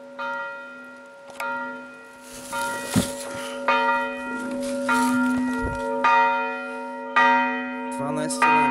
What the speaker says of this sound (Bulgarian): Изпълнява длъжността бияч на камбана.